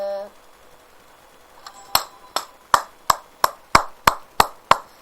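Hands clapping close to the microphone, about ten sharp, evenly spaced claps in a steady rhythm, each with a short ringing decay, following a brief quiet stretch.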